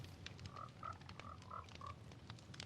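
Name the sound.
frogs in the video game Minecraft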